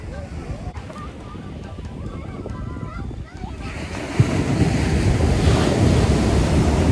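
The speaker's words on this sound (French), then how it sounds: "il y a d'énormes vagues" Large ocean waves surge and crash onto Mamelles beach in Dakar, a steady roaring wash of surf that grows louder partway through, with wind buffeting the microphone and no one talking.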